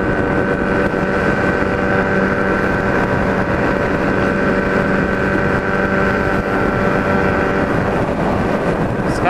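A steady, loud engine drone with wind rush from a Kawasaki Z1000 riding along a highway among many motorcycles, continuous and close, with no speech.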